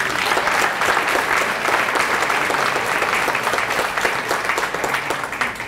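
A graduate film school audience gives a loud, sustained round of applause during a mayor's speech, with an even wash of clapping throughout and no talk over it.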